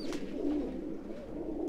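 Pigeons coo in a steady, low murmuring chorus, close and continuous, from a loft of Kasuri golden, red-eyed and golden-touch pigeons kept for competition.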